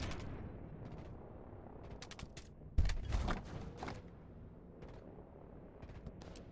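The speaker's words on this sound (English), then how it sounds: "I can hear some gunfire from commandos." Commandos exchange gunfire in the real-time strategy game Line War; scattered bursts of shots crackle at moderate distance, with a heavier cluster of impacts midway, over a low rumbling battlefield bed.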